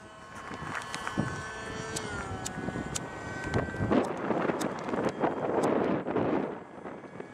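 Strong gusts batter the microphone at an open-air model rocket launch event in Santa Cruz do Rio Pardo, loud rumbling buffets swelling and fading, with faint clicks and scattered sounds in the background.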